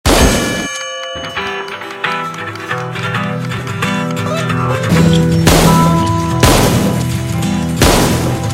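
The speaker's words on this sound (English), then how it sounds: "Just ring that bell up there. Ring it loud and wake the dead." A bell rung loudly in the VR game Coffin Rot Brewing Co., with bright metallic clangs that ring out and decay, several strikes following one another over a busy game backdrop.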